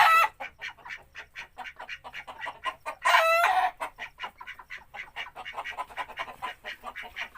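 Chickens cluck steadily on a village farm with many birds nearby, a rapid continuous chatter of short calls, broken by a louder drawn-out squawk or crow partway through.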